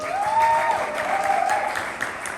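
A short burst of crowd applause and cheering at a poetry slam, moderately loud, with a high whoop rising over the clapping.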